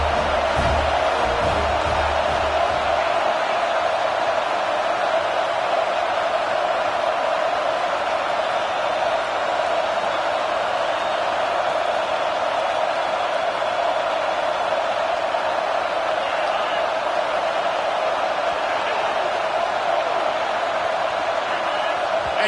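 Ohio State football stadium crowd roaring loudly and continuously at a dense, steady level, a wall of broadband noise that swells early and holds for the full stretch.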